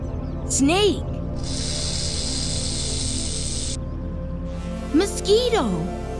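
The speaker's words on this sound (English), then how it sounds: "Snake." A snake gives a steady, loud hiss that lasts a couple of seconds. A narrator names an animal before the hiss and again after it.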